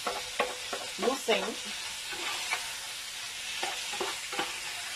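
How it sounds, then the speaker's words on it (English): Onions frying in a pot for smoky rice, with a steady soft sizzle and occasional scraping stirs, close and moderately quiet. "I'm going to add the onions. I just want the onions to be fried, at least to translucent."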